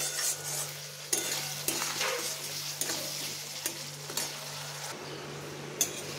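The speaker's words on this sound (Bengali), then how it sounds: "এবার আমি অল্প করে জল দিয়ে কষাতে থাকছি" Spice paste for a magur fish curry is stir-fried with a splash of water in a pan, a continuous close sizzle broken by repeated scraping strokes of the spatula.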